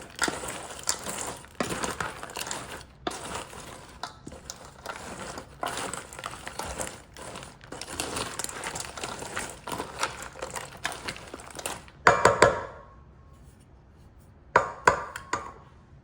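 Okra casserole ingredients are stirred together in a bowl, giving a busy run of scraping, squelching and clinking utensil sounds, close and continuous, ending with a few sharp knocks.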